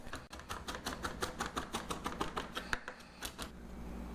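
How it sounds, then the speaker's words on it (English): A knife chops spring onions for crab cakes outdoors, giving a steady run of quick, crisp taps on a board, fairly quiet and close. "Right now I'm chopping up 2 spring onions"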